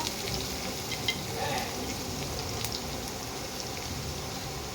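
Chopped onions with a little salt fry steadily in a pan for a carrot and potato dish, giving a continuous, even sizzle with faint crackles, close and alone.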